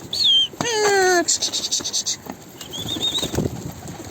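Tumbler pigeon wings flap in a quick burst of rapid beats close by after a firecracker startles the bird, amid chirping birds and outdoor background noise.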